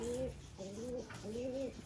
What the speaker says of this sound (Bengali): এটা একটা বাচ্চা